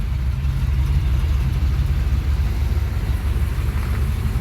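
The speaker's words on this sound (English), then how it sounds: "There it is, sitting there idling." The V8 engine of a Chevrolet S10 truck idles steadily in a garage, a continuous deep, even rumble with no revving or other sounds.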